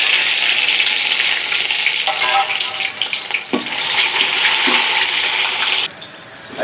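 Ginger and dried chillies frying in hot oil, a loud, continuous broadband sizzle with stirring scrapes that drops away abruptly near the end.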